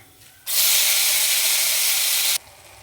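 Amaranth leaves drop into hot oil tempered with mustard seeds, chana dal, urad dal and fenugreek, setting off a sudden loud, steady hiss and sizzle that holds for about two seconds, then cuts off sharply.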